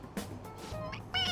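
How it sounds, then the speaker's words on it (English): A toy cat gives a short electronic meow when its head is pressed, heard close against a faint background. "It meows when you press on its head"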